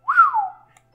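A person whistles straight into a microphone, a single close, loud tone that rises quickly and then glides slowly downward over about half a second, followed by silence.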